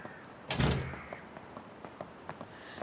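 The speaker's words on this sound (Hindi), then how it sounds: "दरवाजा बंद करो।" A door is pushed shut with a solid thunk, fairly close and loud, followed by faint small knocks and room noise with no voices.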